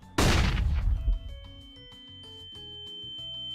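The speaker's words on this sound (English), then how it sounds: "Throwing flashbang." A flashbang grenade detonates in a video game, giving one loud, bursting blast that rings for about a second, followed by a quiet sequence of electronic tones, with no voices.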